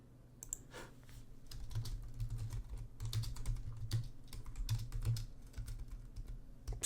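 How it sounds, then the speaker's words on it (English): Rapid, irregular keystrokes on a computer keyboard, close and fairly steady over a low background hum, with no talking. "Let me type it on my computer."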